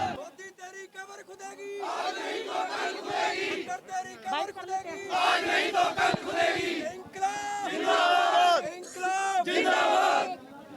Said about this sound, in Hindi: आज मोदी सरकार मुर्दाबाद, खट्टर सरकार मुर्दाबाद के नारे लगाए जा रहे हैं